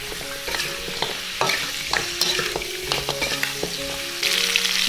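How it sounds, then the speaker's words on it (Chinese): Pork trotters and ginger slices stir-fried in a wok, with steady sizzling and repeated scraping stirs of the spatula, close and fairly loud throughout, no voices. "加入一把姜片，继续翻炒。"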